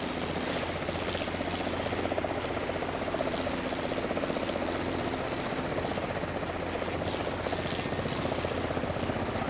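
A helicopter in the military video game ARMA 3 drones steadily throughout, its rotor thump and engine whine constant and close, with no break or change in level.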